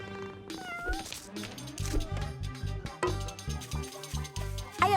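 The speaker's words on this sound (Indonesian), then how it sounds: "Kau kucing nakal." A cartoon cat meows a few times over busy background music and sound effects in an animated children's show, the cries short and rising amid louder musical hits.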